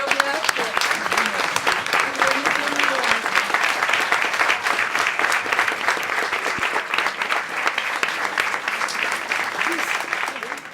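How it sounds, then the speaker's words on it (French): An audience at the Simone de Beauvoir Prize ceremony gives sustained, dense applause for laureate Ludmila Ulitskaya, steady clapping throughout with a voice briefly audible at the start. "je vous prie de l'applaudir"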